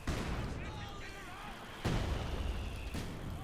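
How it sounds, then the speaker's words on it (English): Mortar and artillery shells thud and boom in a Company of Heroes 2 battle, two heavy low impacts a second apart standing out over a busy game soundscape, with a commentator talking underneath. "Mortars doing what they can as well there."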